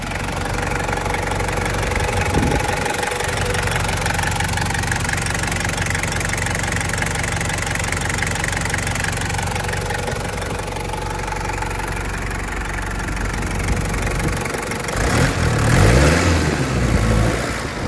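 A Toyota HiLux Surf SSR-X's 3.0 turbo diesel engine idles steadily with a low, knocking rumble throughout, growing briefly louder near the end.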